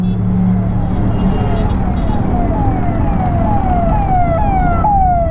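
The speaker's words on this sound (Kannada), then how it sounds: "ಬೇಗ ಹೋಗ್ರಪ್ಪ, ಆಂಬುಲೆನ್ಸ್ ಬಂತು." An ambulance siren wails in repeated rising sweeps through traffic, loud and close above a constant rumble of road vehicles.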